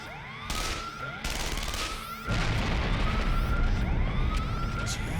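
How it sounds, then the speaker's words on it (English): Video game explosions and gunshots: heavy booms and dense firing layered under a wailing alarm siren, loud and continuous, growing more intense partway through, with no talking. "Is that a gunshot? I heard explosions too."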